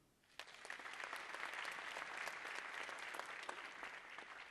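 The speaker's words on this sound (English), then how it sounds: "Please applaud Alyssa Hickey." An awards-ceremony audience applauds scholarship recipient Alyssa Hickey. Full, even clapping rises quickly after a brief quiet start and holds steady at a moderate distance.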